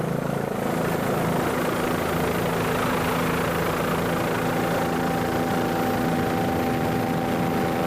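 Offshore racing powerboat engines on a 34-foot Phantom P4-class boat drone steadily and loudly at a grand prix over a bumpy stretch of course, a continuous roar with no speech.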